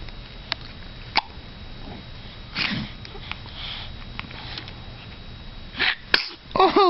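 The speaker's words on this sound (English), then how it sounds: "Baby's got the hiccups." A baby hiccups, giving several short, sharp catches spaced a few seconds apart, close by in a quiet room, with soft breathy sounds and a brief cry near the end.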